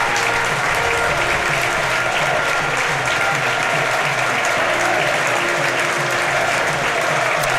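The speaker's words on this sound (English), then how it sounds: "the Barnet fans have done their best and are still applauding the side who are applauding them back" Barnet football supporters in the stands applaud their team after a match, a broad, steady crowd clapping that stays loud and even for the whole stretch, with faint voices beneath.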